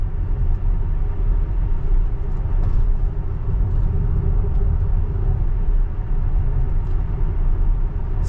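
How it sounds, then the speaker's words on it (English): A Tesla on Full Self-Driving beta cruising straight along a country road, heard from inside as a steady low road and tyre rumble with no one speaking. "This will be pretty just straight going along a country road like this."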